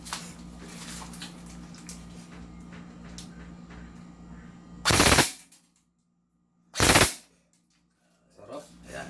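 An M4A1 Carbine two-tone airsoft gun fires on rapid fire in two short bursts of quick, loud, clattering shots, with brief silence between them and faint activity before and after.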